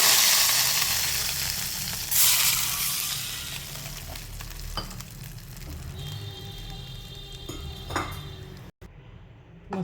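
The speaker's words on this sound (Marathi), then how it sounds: "आणि मस्त ही फोडणी आता याच्यात ओतून घ्यायची आहे." A tempering of mustard seeds and cumin is poured into a chutney and bursts into a loud sizzle that slowly fades. Light clinks of metal utensils follow near the end, and nobody speaks.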